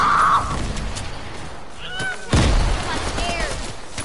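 Gunfire from the new machine pistol in the video game Fortnite: a sharp, loud burst rings out midway, with fainter shots and whistling game effects around it.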